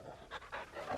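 Torgal, the canine companion in Final Fantasy 16, pants in quick, breathy bursts, close and fairly soft, with no talking.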